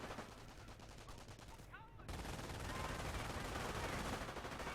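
Rapid gunfire and machine-gun bursts crackle through a World War II strategy game battle, with Rangers in a damaged house firing on StuG assault guns near a cratered graveyard; the dense, steady shooting briefly drops out before returning louder and continuous.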